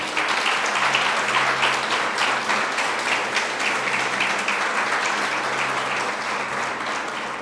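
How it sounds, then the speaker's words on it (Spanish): A church congregation breaks into loud, sustained applause during a Spanish-language sermon, dense clapping filling the room steadily and close for several seconds with no talking over it. "¿Por qué no le das un fuerte aplauso a Dios?"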